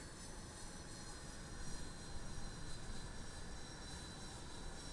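Steady, broadband engine roar from an Antonov An-225 in Microsoft Flight Simulator, a dense continuous drone with a faint whine on top and no speech.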